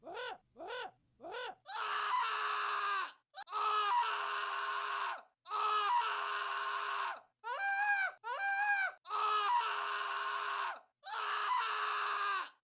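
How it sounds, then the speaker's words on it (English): Screams auditioned as sound effects for game development, a series of about ten separate high-pitched shrieks and wails, some rising and falling in pitch, each cut off by short silences, loud and close with no talk. "There's some like very strong Homer vibes in a couple of these screams, like extremely strong"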